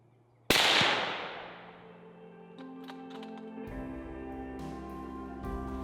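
A single rifle shot at a muntjac buck during a stalk, one sharp close crack that rings and decays over a couple of seconds, followed by quiet rustling and faint clicks.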